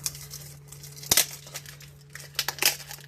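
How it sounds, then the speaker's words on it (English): Plastic packaging crinkles and crackles up close in scattered bursts, with one sharp tearing snap, over a low steady hum. "First, get it out of this plastic."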